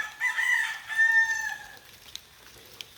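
A rooster crows once with a long, harmonic call on a rainy morning, followed by faint clucking and a couple of sharp clicks.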